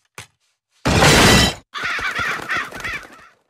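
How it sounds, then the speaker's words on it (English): Crows caw loudly inside a house in an animated comedy scene, a brief sharp burst followed by a series of harsh, rhythmic caws close by, with no talking. "those crows keep getting in"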